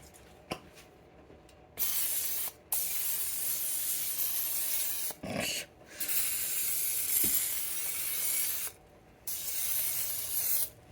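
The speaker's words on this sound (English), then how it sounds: "Do I need to spray this?" Several short hissing bursts of an almost empty can of cooking spray into a slow cooker, separated by brief pauses, with a faint click or two in between.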